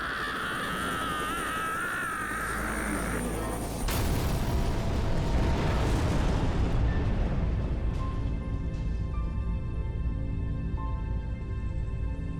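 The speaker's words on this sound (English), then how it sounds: "an explosion goes off" A loud, sustained blast erupts in the Like A Dragon: Zombie Yakuza in Kamurocho game, a rumbling boom that swells and lingers as debris-like noise and a faint tonal ring carry on for several seconds after a quieter lead-in.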